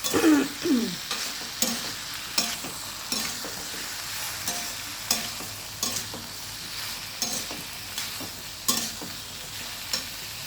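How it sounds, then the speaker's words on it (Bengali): Food is stir-fried and sautéed in a pan: repeated scraping strokes of a spatula land every second or so over a continuous sizzle, close and clear, with no voices. "এটা এইভাবে আমি কষিয়ে নিচ্ছি।"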